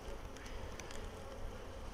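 Honey bees buzz at an open hive during a beginner beekeeping session, a steady, faint, continuous drone of many insects with no one talking.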